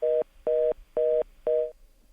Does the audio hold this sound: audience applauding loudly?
no